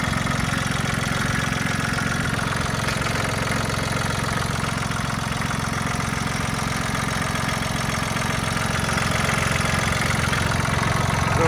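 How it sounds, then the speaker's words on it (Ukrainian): A Mitsubishi MTR-300 mini tractor engine idles steadily up close, with a constant even rumble and rapid mechanical chatter throughout and no talking. "Двигун працює як годинник."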